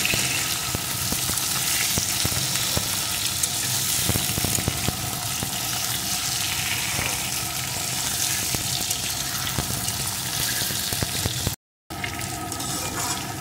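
Malabar spinach stalks fry with potatoes in a pan for a hot Bengali fish curry, giving a loud, steady sizzle that runs without pause, with a brief drop out near the end.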